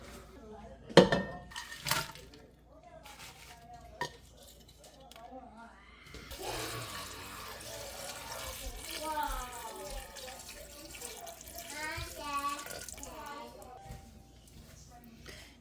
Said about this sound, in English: I'm going to take this water, pour it off, give them a little rinse.